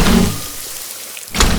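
A single heavy attack hit for a game lands as a dense burst of impact noise, then decays through a rumbling tail before a second sharp crack near the end, loud and without any talk.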